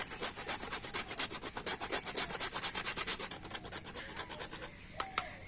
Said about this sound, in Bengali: তো দেখুন খোয়া ক্ষীরটা গ্রেট করে দিয়ে দিয়েছি।